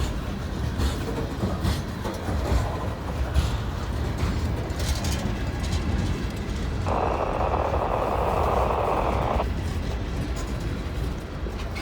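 An eastbound freight rock train pulled by two 6-axle locomotives rolls past close by, a continuous heavy rumble with wheel noise and a sustained horn-like tone partway through.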